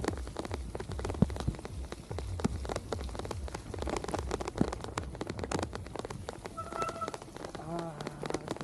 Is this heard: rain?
yes